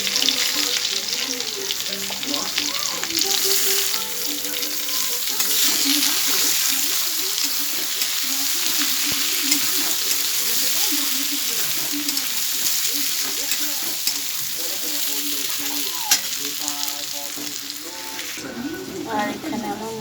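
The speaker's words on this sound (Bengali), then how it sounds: "আলুগুলো ভাজা ভাজা হয়ে গেছে, দিয়ে দেবো কেটে রাখা পেঁয়াজ।" Chopped onions added to potatoes frying in hot oil for a Bengali fish curry with potol and tomato, a continuous loud sizzle with stirring clatter throughout, ending in a brief lull.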